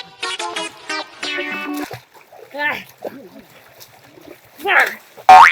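A person is dunked into cold water in the Gir area, making a couple of sharp, close splashes near the end amid lively talk and shouts from several people.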